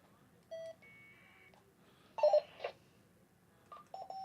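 Short electronic beeps and tone bursts from a Retevis Ailunce H1 handheld radio receiving an APRS beacon, several brief chirps spread across a few seconds with quiet gaps between.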